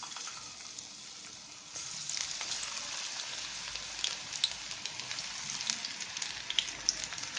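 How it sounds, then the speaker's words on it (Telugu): Onion pakodi sizzling as it deep-fries in hot oil on a medium flame, a steady bubbling crackle with sharp pops and spits that grows louder after the first couple of seconds, with no talking. "మనం ఆయిల్ హీట్ అయిందండి, ఇప్పుడు మనం పకోడీ వేసేసుకుందాం."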